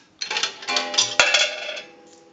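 A quarter drops through the coin mechanism of an Automatic Electric three-slot payphone, rattling briefly before one clear metallic gong strike rings out and slowly fades.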